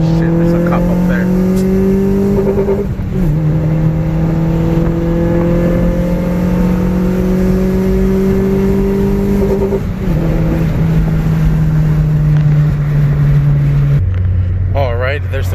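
A tuned car accelerates hard in second gear onto a freeway, its engine droning and climbing in pitch through long pulls with gear shifts, loud and close from inside the cabin.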